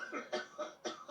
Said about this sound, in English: Always edit out the coughs when possible.